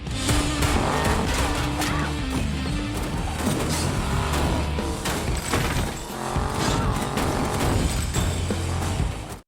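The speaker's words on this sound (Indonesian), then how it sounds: "dengan cepat Annie segera memundurkan mobil." A car in a film reversing at speed out of a gambling den getaway, engine roaring under dramatic music, with tires squealing and skidding and crashing impacts throughout, loud and dense without dialogue.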